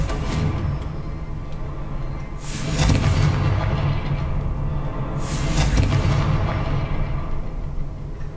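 In Hogwarts Legacy, a Confringo fire spell lands twice, each hit a booming blast with a rumbling tail over steady game ambience.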